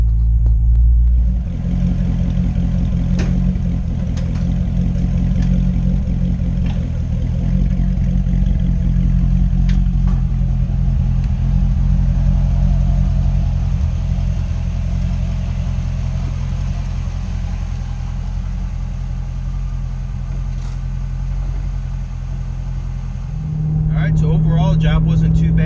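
A Chevrolet Corvette C engine rumbles and idles loudly on a test drive after an evaporative vent valve solenoid replacement, a steady low drone with occasional clatter that shifts pitch near the end.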